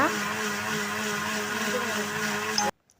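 An electric mixer grinder whirs steadily as it grinds coconut in a Kerala kitchen, a loud constant motor drone that stops abruptly near the end.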